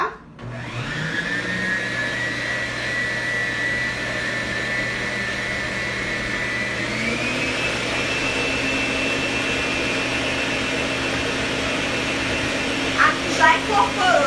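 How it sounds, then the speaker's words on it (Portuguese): An electric stand mixer beats butter and brown sugar, running as a steady close whine that shifts up slightly in pitch partway through, with a few clicks and light knocks near the end. "E aqui na batedeira tem manteiga e açúcar mascavo, tá?"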